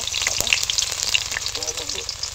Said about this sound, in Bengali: তেলের মধ্যে কাঁচা লঙ্কার কুচো দিয়ে দিলাম কিছুটা, আর দিয়ে দেবো আদা কাঁচা লঙ্কা বাটা